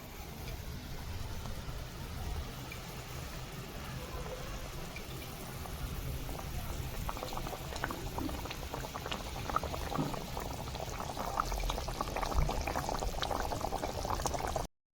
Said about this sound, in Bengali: ঝোল ফুটতে শুরু করেছে, ভেজে রাখা মাছ দিয়ে দিচ্ছি।